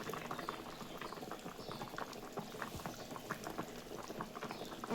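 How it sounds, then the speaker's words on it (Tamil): Fish curry bubbles at a steady boil in a pot, a continuous dense patter of popping bubbles at close range, with no voices. "குழம்பு இப்போ வந்து ரெடி ஆயிடுச்சு. மீன் போட்டு கொதி வந்து மீனும் வெந்துடுச்சு."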